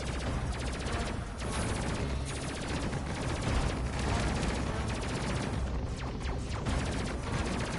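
Rapid gunfire from a ship's gun in the space game Space Crew rattles in a steady, dense stream of shots with crashing impacts, fairly loud beneath a faint voice.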